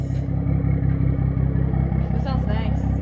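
A Toyota Supra fitted with a Tomei single-exit exhaust idles below 1,000 RPM, giving a steady, close, deep pulsing rumble that continues evenly throughout, with voices faintly in the background.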